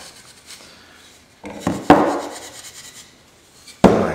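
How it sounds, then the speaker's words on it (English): Steel wool scrubs over a wooden star and down into its cut holes, giving soft scratchy rubbing with a few sharper knocks and scrapes, close by with no talking. "Just going around it, can go down inside all these holes and buff the entire back side."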